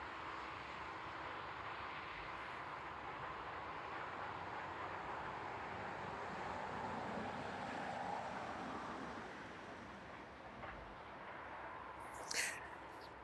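A Jet2 passenger jet arriving from Tenerife at night at East Midlands Airport gives a steady, broad engine roar that holds for most of the stretch before easing off, with a brief sharper noise near the end.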